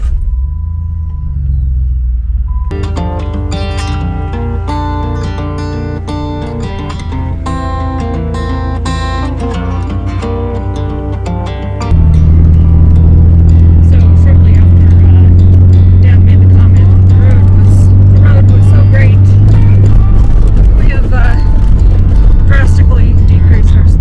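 A vehicle on a bumpy dirt road along Utah's Pony Express Trail rumbles loud and close once it gets moving midway. A steady tonal hum plays over the first stretch, and voices talk throughout.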